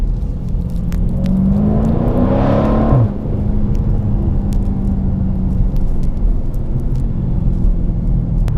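Loud, steady low engine and exhaust rumble from a modded Dodge Charger Scat Pack, swelling briefly as it revs around the third second, then settling back into a constant idle-like drone, with no talking.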